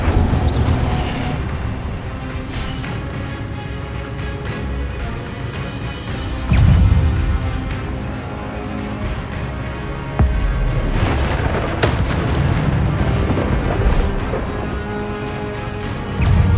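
Fire spell blasts and magical combat effects from the video game Hogwarts Legacy, loud booming bursts over a dense, continuous game soundscape, with heavier impacts near the middle and toward the end.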